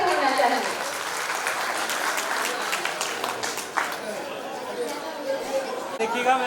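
At the UDAAN 2025 annual school function, the crowd applauds strongly to honour guests on stage. Sustained clapping mixes with chatter and voices throughout, and a few sharper claps stand out near the end.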